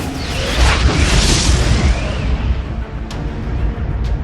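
A drone-strike explosion in war footage: a loud, deep rumbling blast that swells and then rolls on as a sustained roar, with a couple of sharp distant cracks near the end.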